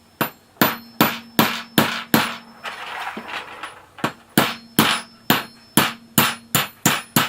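A hammer strikes a 1/4-inch hardened steel pin in sharp, ringing blows, five quick hits, a short pause with scraping, then eight or nine more evenly spaced strikes, loud and close.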